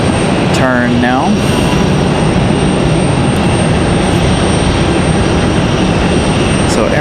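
Aeromexico E190LR jet turning near Raleigh-Durham airport, a broad steady roar of engine noise, loud and constant, with a brief whistling chirp early on.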